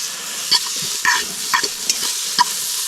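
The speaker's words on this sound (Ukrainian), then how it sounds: "будемо смажити все на салі" Food sizzles and crackles steadily in hot lard, with a few louder pops and spatters standing out, close by, with no talking.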